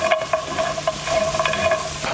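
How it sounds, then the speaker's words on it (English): Cheese being stirred into toasted bread croutons in a hot pan with the heat just switched off, a steady soft sizzle broken by repeated scraping strokes, close and alone. "Mix that in, make sure with some of that cheese."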